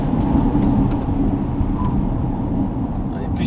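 A Lotus Eletre electric SUV driven briskly, giving a steady, loud rumble of road and wind noise that swells and settles slightly, with no clear talk.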